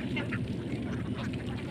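Ducks quack continuously on a duck farm in rural Bangladesh, a close, busy chorus of overlapping calls filling the whole short stretch.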